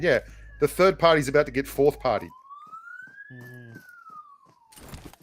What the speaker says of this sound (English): That's the sound of the blue zone police.